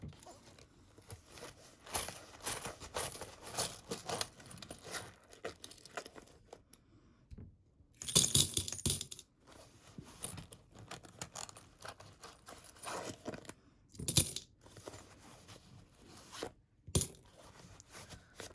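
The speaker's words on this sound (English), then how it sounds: "start with me emptying out my coins" Coins being emptied out onto a surface while budgeting with cash envelopes, heard as bursts of clinking and jangling metal with scattered rustling, loudest around the middle and near the end, close by with no talking.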